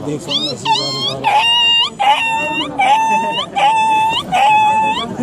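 A girl imitates a dog up close with a loud run of about five high, whining yips and whimpers, each rising then bending down, repeated at a steady pace.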